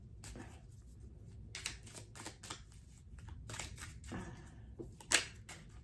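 A deck of cards is shuffled during a psychic card reading in windy conditions, giving quiet bursts of riffling and slapping at an uneven rhythm with short pauses, up close and without talk.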